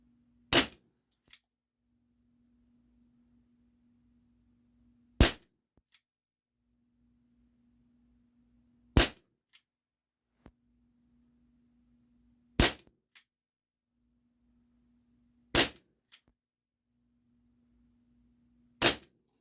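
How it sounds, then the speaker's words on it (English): A Dan Wesson 715 CO2 pellet revolver fires single-action shots, six sharp, loud cracks spaced a few seconds apart, with faint clicks and low mechanical hums from cocking between them in an otherwise quiet setting. "Same thing, single action, right target, 6 shots."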